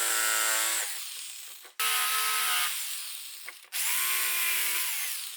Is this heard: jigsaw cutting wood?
yes